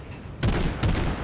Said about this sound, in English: I'm going to go ahead and start opening fire with the 4 guns that can actually fire on him